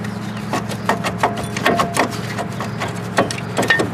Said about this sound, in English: now I can pretty much just shake off my caliper itself.